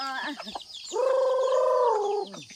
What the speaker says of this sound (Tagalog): ito ang mga Parawakan chicken oh